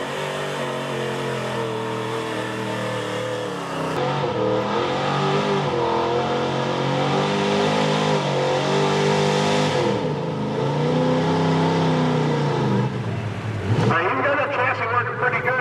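Someone's square body GMC pickup, Ice Cream Money, roars loud and close at a truck pull, the engine holding a steady heavy drone with surging revs, then dropping away and rising again near the end, with a voice talking over it.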